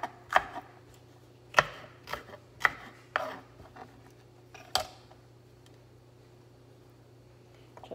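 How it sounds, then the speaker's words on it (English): Knife slicing through a green pepper on a cutting board, with about six sharp, separate cuts in the first five seconds and then near silence. "Like that, cut it in half, put the other half to the side."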